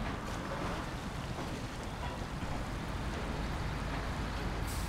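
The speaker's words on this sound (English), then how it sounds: "What if I just full send it here?" A heavy truck engine in the SnowRunner off-road driving game roars at full throttle in a dense, steady, loud drone that holds without pause throughout.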